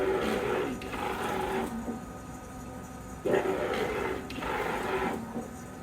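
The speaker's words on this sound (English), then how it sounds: "the POS banner should start printing" Large-format printer printing a POS banner, its print head making repeated whirring, sewing-machine-like passes in roughly rhythmic bursts with brief pauses between, fairly quiet and steady with no talk.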